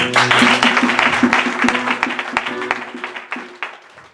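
A church congregation claps in praise at a Sunday service, a dense close burst of applause with rhythmic beats that gradually fades over a few seconds.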